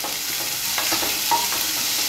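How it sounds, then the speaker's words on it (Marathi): Three finely chopped onions sizzling in hot oil in a pan for whole masoor bhaji, a dense close frying hiss with a few light stirring scrapes, no talk. "आपलं तेल तापलं आहे, 3 कांदे बारीक चिरून घेतलेले ते घालते आहे."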